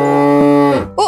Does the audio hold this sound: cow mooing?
yes